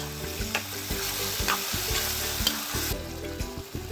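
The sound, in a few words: stirring tomatoes frying in a pan for fish curry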